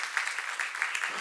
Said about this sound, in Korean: 믿는 사람 박수 쳐보세요.